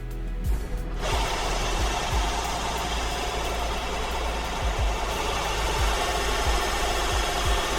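Belt grinder running on a knife during restoration, a steady loud mechanical hum and whir with faint rhythmic thumps underneath, continuous and close.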